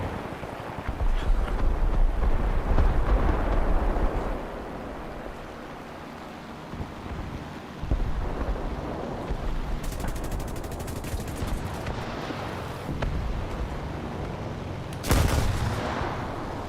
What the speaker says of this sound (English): I nearly took out my my friendly there with those bombs